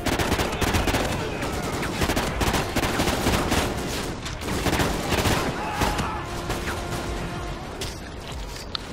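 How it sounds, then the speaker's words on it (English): Sustained automatic fire from a submachine gun in the video game Call of Duty Ghosts, a dense loud continuous burst of shots with battle noise layered over it, lasting the whole stretch. "let's use this little submachine gun"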